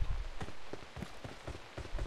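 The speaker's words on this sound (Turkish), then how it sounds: "Abi yağmur yağıyor." Steady in-game rain patters across the ground in PUBG Mobile on the new Erangel map, a dense, even hiss with soft drop ticks throughout, fairly quiet and continuous, with no talk over it.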